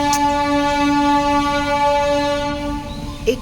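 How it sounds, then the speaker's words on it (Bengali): A passing train sounds a long steady horn blast with strong tonal harmonics, loud and near, fading slightly before a brief rattle at the end; nobody talks. "একটু দাঁড়ান, ট্রেনটা যাক"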